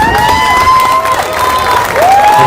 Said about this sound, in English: Let's give Miles Lewis a round of applause